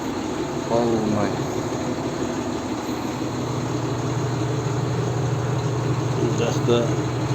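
A Sibir air conditioner in the cab of a 140-horsepower tractor hums steadily and evenly, with a voice talking over it.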